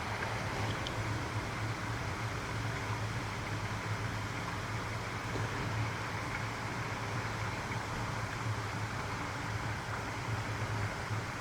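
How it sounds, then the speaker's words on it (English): River overflow rushing beneath a footway beside the Pocklington canal near the lock gates, a constant, even roar of water that sounds fairly distant and low, with no talk. "right beneath my feet you can hear some water rushing, which is the overflow from the river."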